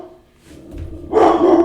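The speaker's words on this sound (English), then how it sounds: "my dog's hearing this in the background and he's getting excited" A pet dog barks excitedly indoors, a short loud burst of a few close barks rising after a quieter moment.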